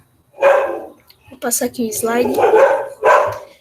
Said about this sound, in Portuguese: E desculpa pelo meu cachorro, tá